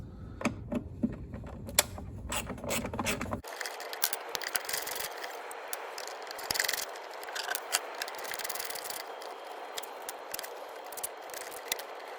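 A ratchet fitted with a T27 Torx socket works fasteners on a Stihl BR400 leaf blower, giving a close, steady run of small dry clicks and scrapes with brief pauses.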